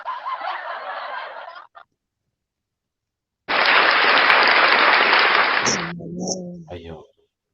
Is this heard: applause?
yes